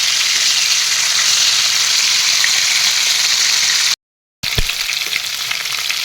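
Fish fries in a pan for a fish curry with green peas, a loud, steady close-up sizzle with crackling, interrupted by a brief cut to silence before the frying resumes.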